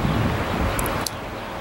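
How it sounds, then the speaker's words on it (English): Strong wind buffeting a microphone outdoors during a walk, a continuous loud rumbling roar with a couple of faint high clicks partway through and no talk. "Nice and windy here."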